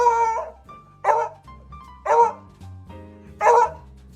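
A dog gives four sharp, loud barks close to the microphone, spaced about a second apart. Faint whines and yips come between the barks.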